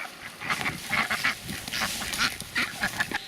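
Several ducks quack nearby in irregular bursts, their nasal calls overlapping with no talking.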